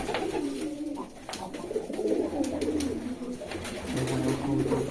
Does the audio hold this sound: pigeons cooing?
yes